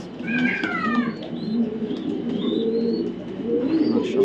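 Racing pigeons, cocks and hens raced in BRPL club races, coo in a low, steady murmur, with sharper bird calls and chirps rising above it throughout.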